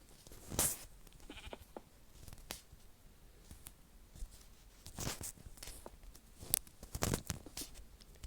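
Minecraft sheep bleat a few times, short and sporadic, mixed with light tapping steps and clicks in a quiet setting.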